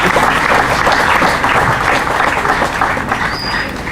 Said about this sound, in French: Et je vous demande de l'applaudir très très fort.